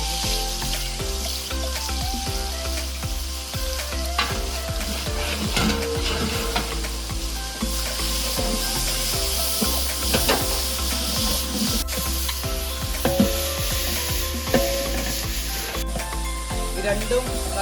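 Sliced onions sizzle steadily in hot oil in a pan for Tamil Nadu-style beef biryani, with repeated scraping and stirring clatter throughout and a thin high hiss from the oil.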